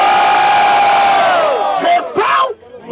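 A live crowd at a rap battle semifinal in Barueri, São Paulo roars and cheers loudly, with yelling voices rising together and tailing off over a few seconds.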